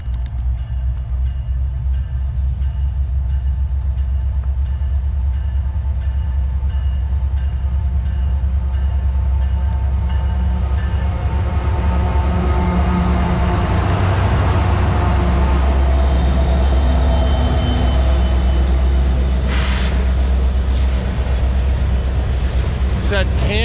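A Kansas City Southern freight train rumbles past up close, loud and continuous, with grinding wagons and a heavy low roar swelling toward the middle of the pass.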